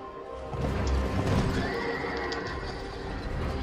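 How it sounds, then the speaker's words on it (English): The Executioner's Chariot horse in the Dark Souls II video game gives a loud, drawn-out neigh and whinny over rumbling hoof and wheel noise, continuous through the clip. "Stupid horse!"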